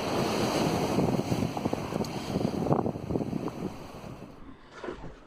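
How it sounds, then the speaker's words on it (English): Sea waves smash against rocks at high tide on the Norfolk coast at Hopton-on-Sea, a steady rough wash of surf with irregular crashing bursts and wind buffeting the microphone, fading toward the end. "I've got the water smashing on these rocks here quite regularly."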